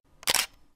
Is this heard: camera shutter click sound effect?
yes